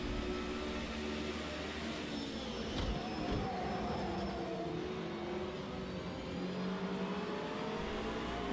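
A Radical race car from the Track Day A series in Project Cars 2 drones steadily under load throughout, with engine harmonics rising and falling as it runs through varied corners, continuous and fairly loud.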